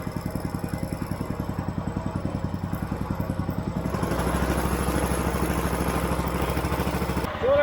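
A walk-behind tractor engine driving a homemade generator chugs steadily close by, its rapid regular firing thickening into a louder, rougher roar as the throttle is opened midway.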